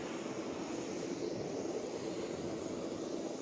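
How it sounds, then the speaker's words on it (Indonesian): Airliner taxiing on the apron at Sepinggan airport in Balikpapan, a steady broadband engine rumble and whine that holds evenly and fairly loud throughout, with no voices. "sesaat lagi pesawat akan melakukan proses taksi"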